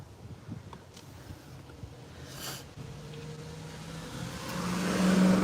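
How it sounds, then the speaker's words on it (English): Cars pass along a road inside a national cemetery, a soft steady rush with wind buffeting the microphone, then an engine swelling louder and closer toward the end. "a lot of traffic"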